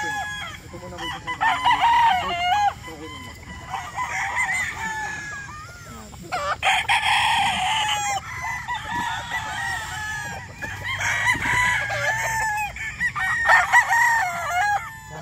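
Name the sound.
rooster crowing, white-legged dome brood stag chickens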